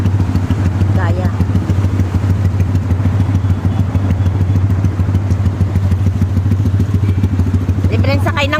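Motorcycle engine and exhaust idling and revving through floodwater in a Bocaue street flood, a steady loud low rumble with clatter and thumps throughout, with people talking over it.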